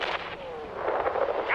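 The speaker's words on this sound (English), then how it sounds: "Lots of explosions" Explosions aboard a crashing ship in the video game Subnautica, a broad, rumbling blast-like roar that swells and churns continuously for about a second and a half, with a faint falling tone running underneath.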